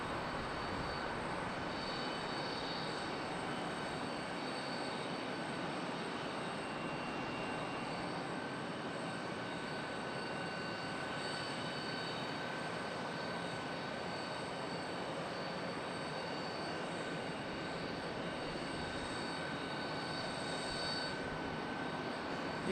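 A passenger airplane landing at Charlotte Douglas airport, heard as a steady, far-off broad engine roar and rushing noise that holds evenly throughout without speech.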